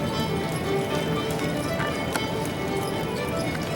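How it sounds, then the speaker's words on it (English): Hooves of a six-year-old Shire gelding clip-clop steadily on the footing of an indoor arena at an equine breed demonstration, moderately loud under a continuous crowd and hall murmur. "In the center of the ring is Stephanie Casco-Brothman with a 6-year-old Shire gelding, Skating Springs Maximus"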